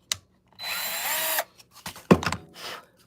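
A small power drill bores a hole into a craft base in one steady burst of about a second, followed by short scraping and handling noises, close and fairly loud with no talk.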